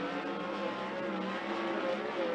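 A 360 sprint race car running hot laps at Skagit Speedway, its engine a steady, loud, continuous roar with no talk over it.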